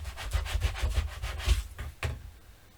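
A hand burnishes glued patterned paper in quick, repeated rubbing strokes, a close scratchy swishing rhythm of about eight passes that slows and fades at the end.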